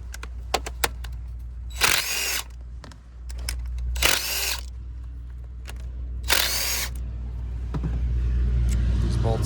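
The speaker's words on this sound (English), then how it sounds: "in my case, I'm using my impact gun" An impact gun removes small bolts on a Volvo 3.2L inline-six engine during coil replacement, firing three distinct short bursts a couple of seconds apart over a low engine-bay hum, with faint clicks in between.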